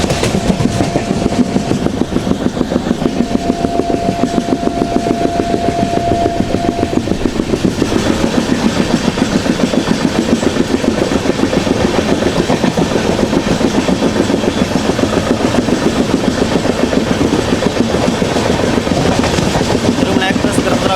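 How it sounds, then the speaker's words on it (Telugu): A long-distance AC double-decker train travelling from Tirupati to Visakhapatnam runs steadily while overtaking the Tirumala Express, with a continuous loud rumble and rhythmic clickety-clack of wheels over rail joints throughout. "మనమైతే ఇప్పుడు తిరుమల ఎక్స్ప్రెస్ ట్రైన్ ఓవర్టేక్ చేయబోతున్నాము."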